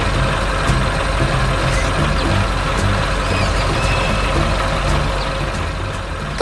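A cartoon truck working in a flower garden beside a digging dog, its engine rumbling steadily and loudly throughout, with faint clanks and beeps over the drone.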